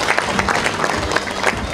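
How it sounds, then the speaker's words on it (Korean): Brief burst of audience applause at a fisheries managers' gathering as officials are introduced, many hands clapping densely and loudly throughout under a hall ambience. "박수로 맞이해주시면 고맙겠습니다."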